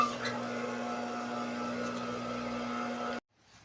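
A high-speed industrial sewing machine motor, running again after a faulty capacitor was replaced, gives a steady close hum for about three seconds before cutting off abruptly, leaving quiet room noise.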